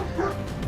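Dog barking in the video game Scarlet Nexus, a short burst of yips and bow-wow barks layered over game sound effects and music.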